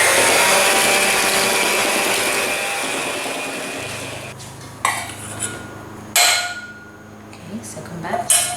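A mixer churns chocolate cookie dough in a bowl, a steady loud whirring for about four seconds that then stops, followed by a few scrapes and knocks against the bowl.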